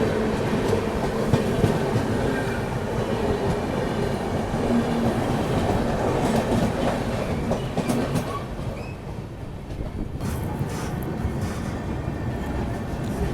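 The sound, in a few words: passenger train arriving at Tundla station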